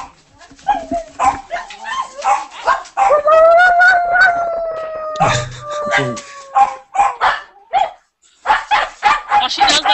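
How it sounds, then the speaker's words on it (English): Dogs bark, yip and howl in a mixed outdoor chorus, with sustained rising howls through the middle and bursts of barking before and after, voices speaking among them. "I can go let the dogs out because they're starting to get really stupid"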